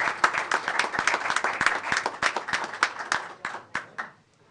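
Applause at an ACS Board of Education meeting: a small group claps with distinct, sharp individual hand strikes over a rough steady patter, thinning out and stopping near the end.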